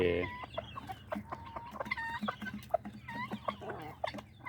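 Guinea fowl and chickens cluck and call in a busy, overlapping stream of short bursts, close by and fairly loud, with a few sharper squawks.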